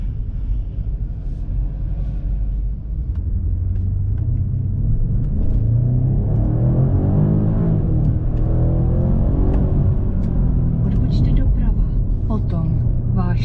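A 2022 BMW M5 with the N63 4.4-litre twin-turbo V8 accelerating hard, heard from inside the cabin as a loud, steady rising engine rumble and drone with a navigation voice and someone talking over it.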